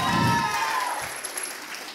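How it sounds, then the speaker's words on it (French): Studio audience clapping and cheering at a live French-language comedy show, a dense burst of applause that swells at first and then thins out over about two seconds. "Oui, vous pouvez vous applaudir."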